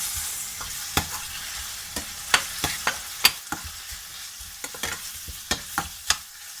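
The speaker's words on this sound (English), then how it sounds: "my curry leaf, my chili, okay, and I'm going to give that a mix" Curry leaves and chili being stirred in a hot pan, a faint steady sizzle with repeated sharp taps and scrapes of a spoon against the pan, close and with no talking.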